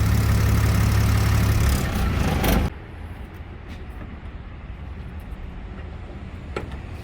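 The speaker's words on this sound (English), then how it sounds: "leave the engine running in idle for a little while before shutting it down" A portable generator engine idling, a loud steady drone that drops abruptly to a quieter low rumble partway through, heard alone.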